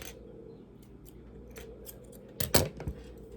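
Scissors snipping off yarn from a crocheted granny square: a quick pair of close, crisp cuts near the end, after a quiet stretch of low room noise.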